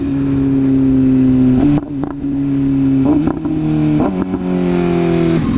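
Car with a loud aftermarket exhaust revs hard while driving, a close, loud engine drone rising and falling through several gear changes, with no talking.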